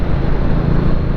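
The V-twin engine of a 1985 Honda Shadow motorcycle runs at a steady idle, a low, even rumble that stays constant throughout, close by with no other sounds.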